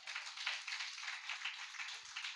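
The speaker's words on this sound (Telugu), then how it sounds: "చప్పట్లు కొడదామా?" A crowd claps in a continuous, fairly faint patter of many hands, an even spread of applause with no voices over it.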